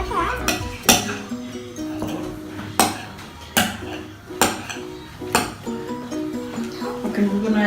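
Slime being stirred in a bowl with clinks and scrapes of a utensil against the dish, irregular knocks recurring every second or so, close up, with voices talking intermittently.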